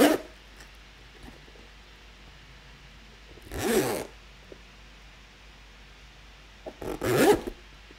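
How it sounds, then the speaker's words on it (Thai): Metal clothing zipper pulled in three short, sharp, close-up zips separated by quiet pauses. "ตัวผมเองเนี่ยจะลองเล่นกับเสียงซิปดูนะครับที่มันเป็นลักษณะโลหะแบบนี้นะครับ"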